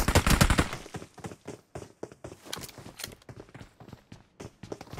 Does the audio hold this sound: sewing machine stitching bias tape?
no